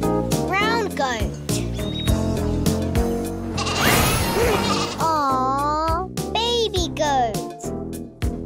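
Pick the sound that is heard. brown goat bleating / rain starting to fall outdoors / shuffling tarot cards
brown goat bleating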